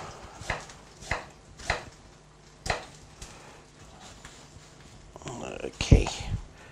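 Knife chopping onion on a cutting board, five or six distinct, evenly spaced chops followed by louder handling clatter, with a person talking nearby.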